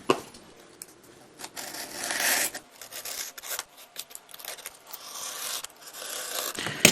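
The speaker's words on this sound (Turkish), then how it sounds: "Hemen kesiyorum." Cardboard being cut by hand while making a toy box, giving a run of close, uneven rasping and scraping strokes with short pauses between them and no talking.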